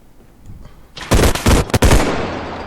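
A rapid burst of automatic gunfire in the bodycam-style video game Bodycam erupts after a quiet moment, several loud clustered volleys with short gaps, then a lingering echo.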